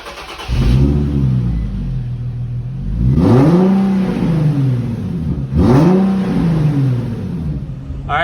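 An Infiniti G37 with its mufflers unhooked for a straight-piped exhaust revs up loud and close, three rising-and-falling engine swells over a steady idle rumble, with no talk.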